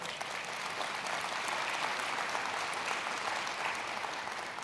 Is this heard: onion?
no